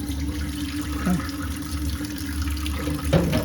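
Tap water runs steadily into a porcelain sink, rinsing ink away, a continuous close splashing stream with a brief louder splash near the end.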